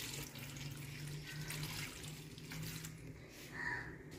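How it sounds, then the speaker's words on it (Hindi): Two cups of water pour into a cooking pot for a spiced dish with salt and turmeric, a soft steady splashing stream that tapers off, quiet and close, with no voices. "अब इसमें डालेंगे 2 कप पानी, तकरीबन 1 ग्लास के करीब"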